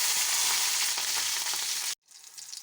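Coriander seeds roast in hot oil with a loud, steady crackling sizzle close by, cutting off abruptly into near silence before a softer sizzle returns.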